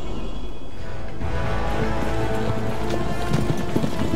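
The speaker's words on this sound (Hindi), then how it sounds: "चल मेरे घोड़े टिक टिक।" Horse hooves gallop in a steady drumming rhythm in the video game Assassin's Creed Revelations, loud and continuous under a dense wash of wind and game ambience.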